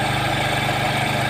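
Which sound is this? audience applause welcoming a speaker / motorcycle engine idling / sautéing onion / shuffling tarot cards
motorcycle engine idling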